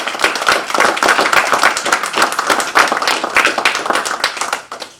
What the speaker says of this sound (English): So let's give Juan Gallego a round of applause